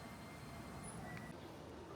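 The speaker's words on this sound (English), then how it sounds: "we get a better look at the system of the track and the rubber wheels as it pulls into the station" A rubber-wheeled monorail in Japan pulls into a station with a faint, steady rolling rumble and a soft background hum, with no sharp squeals.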